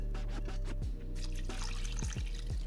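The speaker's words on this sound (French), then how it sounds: "je vais remettre un peu de bouillon de bœuf." Beef broth poured into a pot of boeuf bourguignon, a steady liquid trickle with drips running throughout, close and moderately loud, over a low background hum.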